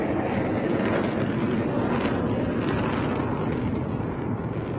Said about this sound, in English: That actually does sound more like a jet than a missile.